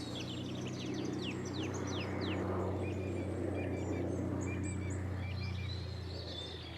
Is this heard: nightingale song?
yes